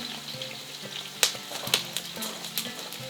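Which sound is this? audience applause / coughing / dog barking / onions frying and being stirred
onions frying and being stirred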